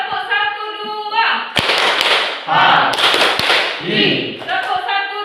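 A group in a classroom claps in short counted bursts, sharp sharp hand claps in quick clusters and single claps alternating with a voice calling out the counts between them.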